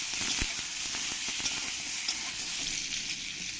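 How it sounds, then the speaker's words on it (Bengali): Pointed gourd (parwal) pieces, salted and turmeric-coated, frying in hot oil with a steady bright sizzle and a few soft stirring clinks, moderately quiet and close, with no talking. "এবার আমি এই পটলগুলোকে একটু ভালো করে ফ্রাই করে দেব"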